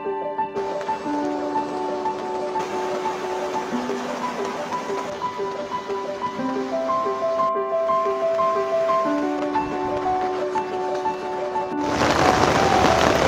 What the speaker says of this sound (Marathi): कंटिन्यू पाणी पडतोय जोरात